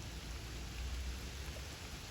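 Soft, steady rain hisses continuously at a low level, with no voices.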